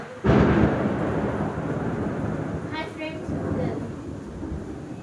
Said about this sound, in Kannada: ಹೆಂಗೆ ಕೇಳಿಸ್ತಾ ನೋಡಿ ಸೌಂಡ್. ಹಬ್ಬ ಬಂತು ಮಳೆ ಬಂತು.